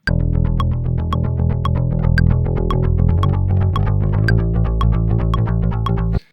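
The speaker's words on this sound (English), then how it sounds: "I kind of like it. Kind of chorusy, right?" A bass guitar line with a wide, shimmering chorus effect repeats steadily, thick low notes ringing continuously until an abrupt stop at the end.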